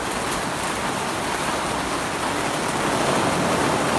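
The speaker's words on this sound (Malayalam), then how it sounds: "നല്ല മഴ പെയ്യുന്നു ഇവിടെ" Heavy rain pours down outside a garden rain shelter during Swiss chard seed planting, forming a dense, even hiss that holds steady and loud throughout with no voices.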